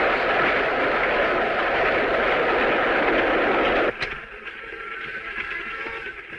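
A train running in a 1938 film scene, a loud, steady roar of wheels and carriage noise that cuts off abruptly partway through, leaving quieter interior rumble and faint rattles.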